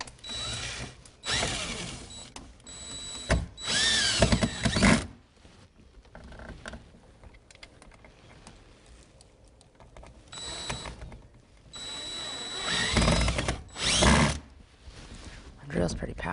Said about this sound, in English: My drill's pretty powerful here